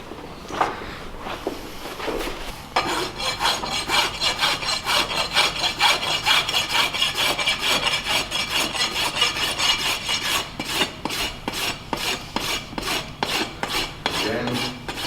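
A farrier's rasp files across a horse's hoof wall during a trim in quick, regular back-and-forth strokes, close and steady, with a brief pause near the start.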